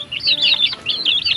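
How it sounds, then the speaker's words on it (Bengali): Local village chickens at morning feeding time near Dagara beach give quick, high chirping and clucking calls with bursts of wing flapping, close and fairly loud, in a short continuous flurry. "দেশি মুরগি।"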